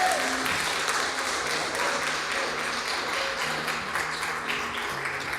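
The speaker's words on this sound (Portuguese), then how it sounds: "aplaude bem forte o nome santo do Senhor" A church congregation claps together in sustained, dense applause, loud and continuous across the whole span, with faint voices underneath.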